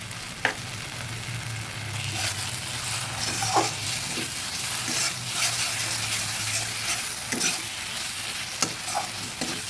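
Spices frying in a pan for a Bengali sesame and katla fish curry, a continuous sizzle broken by repeated scraping strokes of a spatula stirring through the mixture, close and moderately loud.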